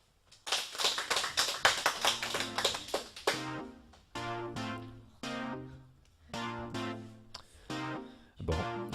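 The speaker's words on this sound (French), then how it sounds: "Bravo. On les applaudit." A school radio quiz audience applauds its two contestants, several bursts of hand clapping, quick and bright, coming in waves with brief pauses between them.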